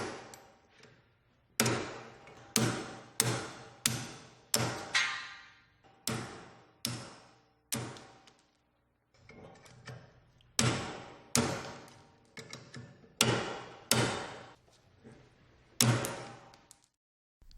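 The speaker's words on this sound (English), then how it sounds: "With a hammer and a roll pin punch" Sharp metallic hammer strikes on a roll pin punch, driving roll pins out of the step cone of a Grundomat-P soil displacement hammer; about twenty close, loud blows come in quick bursts with brief pauses between them.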